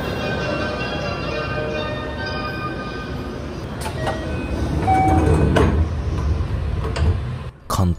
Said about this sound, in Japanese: 関東では聞き慣れない JR 西日本のドアチャイムでドアが閉まり、通勤客であふれかえる横浜駅を発車です。